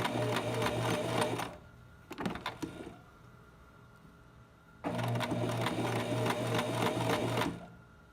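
A sewing machine stitches a fabric face mask in two bursts of fast, even whirring and clatter, separated by a pause with small handling clicks, close and fairly quiet.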